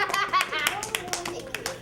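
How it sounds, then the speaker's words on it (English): Children clap during a black history lesson, a scattered run of sharp, uneven claps close by, with giggles and kids' voices chattering over them. "Everyone give him a clap."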